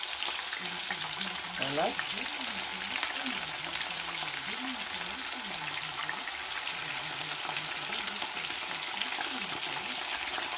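Plantain pieces frying in a pan of hot oil, a steady broadband sizzle with occasional crackles and spits running throughout, while a person talks over it.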